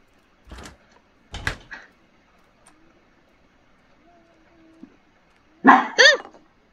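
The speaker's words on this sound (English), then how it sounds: "That's dog barking." A dog barks twice, near and sharp, then after a quiet stretch with faint thumps and a creak it lets out two louder barks in quick succession, in a video game featuring tanks.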